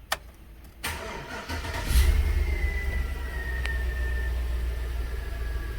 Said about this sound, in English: And then turn the key back on and start.